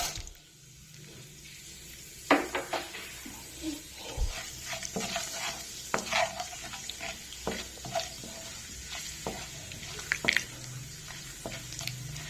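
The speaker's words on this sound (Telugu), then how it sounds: "ఆయిల్ హీట్ ఎక్కిందండి, పోపు గింజలు వేసేసుకుందాం." Mustard and other tempering seeds dropped into hot oil for a garlic broad-bean fry hiss softly and pop in sharp scattered cracks while a spoon stirs now and then, quiet and near with no voices.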